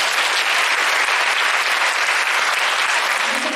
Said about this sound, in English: you're going to give them a round of applause